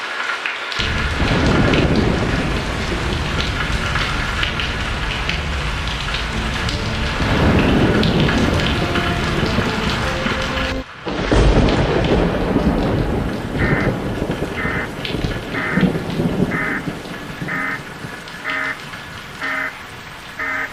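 Steady heavy rain pours down with loud rolls of thunder rumbling through, a brief lull midway before the downpour resumes.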